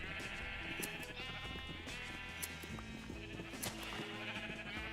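Sheep bleating at a sheep farm in Minecraft, several overlapping bleats repeating throughout at low volume, with no talk over them.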